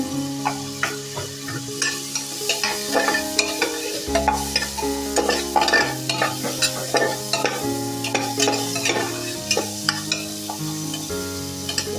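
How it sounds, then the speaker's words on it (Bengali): Vegetables fry in butter while a spatula stirs them, with repeated scraping and clanking strokes over a continuous sizzle, close and fairly loud throughout, no voices. "এগুলো হালকা করে একটু নাড়ানাড়ি করে ভেজে নেব।"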